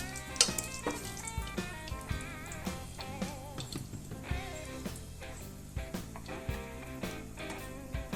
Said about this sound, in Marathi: सगळे खडे मसाले मी टाकून घेते लाल मिरच्या तेजपान अर्धा मिनटं इतकं परतून घ्यायचं